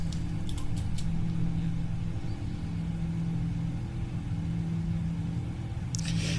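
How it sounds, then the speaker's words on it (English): The engines of a PMDG 777-200 airliner in Microsoft Flight Simulator 2020 give a steady, loud low rumble and drone during the climb, with faint higher whine and no talking. "And you'll notice right now you can hear the engines"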